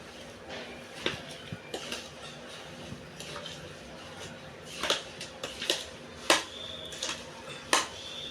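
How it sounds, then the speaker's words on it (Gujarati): A spoon stirs a methi-chana pickle mixture in a pot, giving faint scattered clinks and scrapes against the metal at an uneven pace in a quiet kitchen. "હવે આપણે એને ખૂબ કરીને હલાવી નાખવાનું છે"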